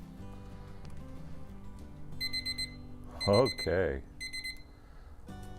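A timer alarm beside a Weber Spirit gas grill, where foil-wrapped sandwiches are cooking, beeps in short rapid bursts repeated several times, while a person speaks briefly in the background.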